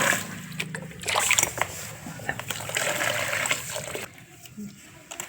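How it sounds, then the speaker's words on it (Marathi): Finger millet (ragi) is swished and rinsed in water, producing steady sloshing, trickling and splashing close up, with a quieter stretch near the end. "चला आज आपण आहे ना नाचणी धुणार आहे"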